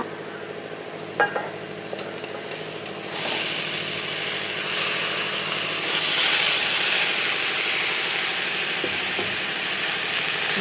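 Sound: chopped ivy gourd (kovakka) stir-frying in a pan

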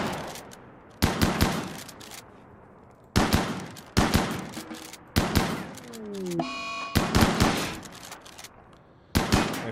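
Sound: gunfire in video game Rimworld

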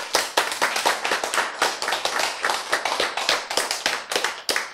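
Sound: audience clapping

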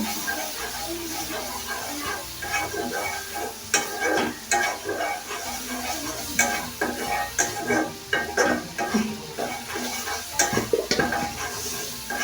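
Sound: sautéing spices with bay leaf and cinnamon in a pan

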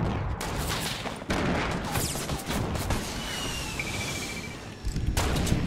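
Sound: grenades exploding in the video game Fortnite

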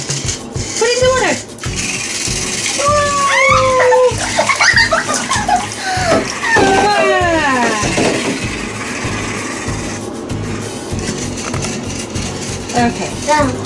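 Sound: robot fish toy splashing in bathtub water

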